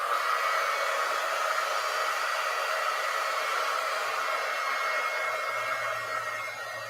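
Hair dryer blowing on wet glue, a steady loud airy whoosh that runs continuously throughout with a faint low hum creeping in toward the end.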